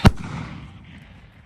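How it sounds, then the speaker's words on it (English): A single sharp, loud bang from a gas-powered bird scarer on a farm, followed by a long echo rolling off around the woods. "we're doing it with means of this gas gun. So I've just set it to test fire."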